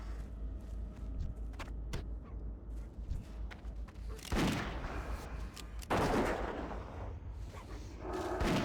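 A hunter's gunfire in World of Warcraft Classic: Burning Crusade, repeated sharp shots and heavier blasts in irregular bursts over continuous game noise, loud and close.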